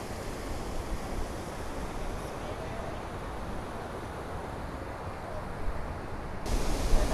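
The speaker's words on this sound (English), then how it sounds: "Look at these falls." A waterfall swollen with spring runoff rushes in a steady broadband roar near St George, Utah, growing slightly louder at the end.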